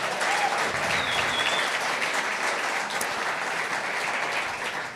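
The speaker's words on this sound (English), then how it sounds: "How about a round of applause for these two?" Loud, sustained applause fills a hall at a business keynote event, a thick, continuous roar of many hands clapping that stays even for several seconds before easing slightly.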